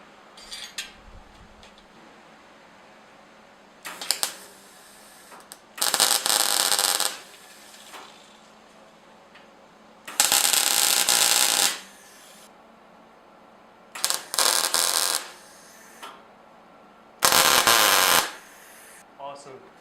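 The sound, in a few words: tack welding frames for a workbench table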